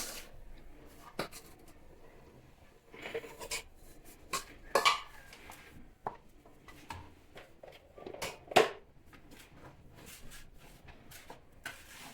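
Dry mandazi ingredients such as sugar being mixed in a bowl, with scattered clinks and scrapes of a utensil against the bowl, a few sharper knocks standing out against a quiet background.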